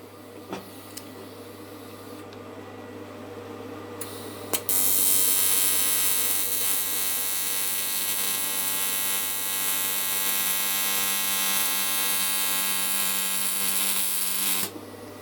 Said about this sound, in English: It's welding nicely, I'm happy with it.